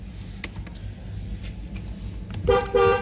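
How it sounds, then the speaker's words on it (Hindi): A Mahindra Scorpio N horn sounds in two short, loud honks at the end, after a stretch of quiet engine hum. "हॉर्न"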